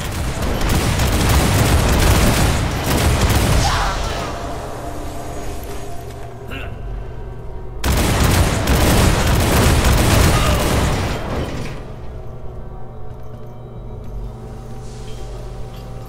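Explosions from a Bombard spell in War for the Overworld: two heavy barrages of rumbling booms, each lasting several seconds, with fainter aftermath rumbling between and after them, loud and close.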